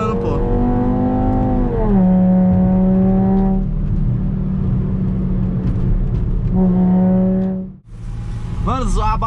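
A Volkswagen Jetta 5-cylinder with a straight-pipe exhaust revs hard, its engine note sweeping up and holding in loud sustained pulls, then dropping briefly before another sharp rev.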